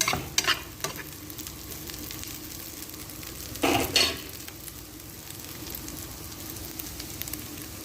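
Cabbage and chicken stirred in a hot pan, a soft continuous sizzle broken by a few louder scraping stirs of the utensil near the start and middle; no talking.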